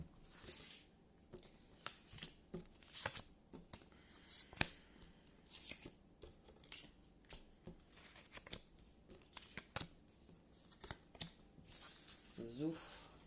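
A deck of cards being shuffled and cut at a table, giving repeated short riffling and slapping bursts spread across the clip, fairly quiet, with a brief voice near the end.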